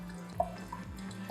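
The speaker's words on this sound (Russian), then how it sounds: "мы открыли входной кран, установили небольшой поток, где-то 2-3 литра в минуту с воды." Tap water running at a small steady flow through an Aquafor reverse osmosis filter during flushing, a continuous low trickle with a few soft drip-like plinks, close and fairly quiet.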